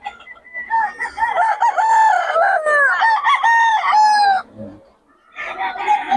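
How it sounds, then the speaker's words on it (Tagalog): Many chickens and roosters at a poultry seller's place in Bocaue crow and cluck close by, with overlapping drawn-out cock-a-doodle-doos, a brief pause, then more clucking. "maraming manok."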